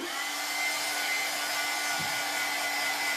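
Hair dryer blowing over glittery double-sided craft pieces to dry them: a steady, loud, close whooshing airflow with a faint motor whine, holding constant for a few seconds with no voices.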